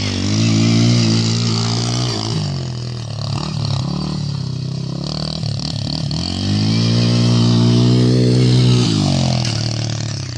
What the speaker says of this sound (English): Jumping his Kymco 90 and then my pit bike next.